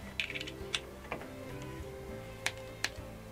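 Keys on a computer keyboard are tapped in a few scattered, sharp clicks with gaps between them, quiet and close over a faint steady electronic hum.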